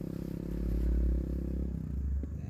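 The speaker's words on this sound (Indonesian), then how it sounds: "Ini udah mulai tinggi banget jalannya, terus kayak motornya mulai ngadet-ngadet gitu loh." Off-road trail motorcycle climbing a steep sandy track toward the Bromo sand sea, its engine droning then faltering and sputtering as it labours, with faint rattles and scrapes near the end.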